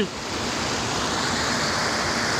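Clear river water rushes in a constant, close, broadband hiss, steady and unbroken throughout with no talking.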